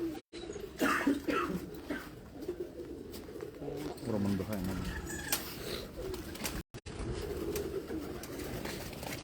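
A black parwazi flying pigeon coos in soft, low repeated calls close by, while someone talks over and between the coos.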